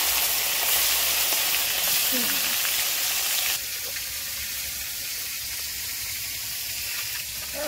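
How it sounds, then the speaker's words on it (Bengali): Fish caught from a pond sizzle as they are laid into hot oil, cooked outdoors. A loud, crackling frying hiss fills the clip and settles slightly quieter partway through, with no clear speech. "দেখ এই মাছ তেলে দিচ্ছি, এইভাবে দিয়ে দেবো মাছগুলো।"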